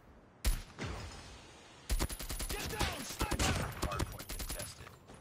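A light machine gun fires in a video game: a single shot, then a long rattling burst of rapid, sharp shots, loud and close, with someone talking.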